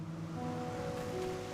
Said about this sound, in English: A waterfall whose stream is at once ferocious and tender, whose spray kisses its surroundings in an affectionate pitter-patter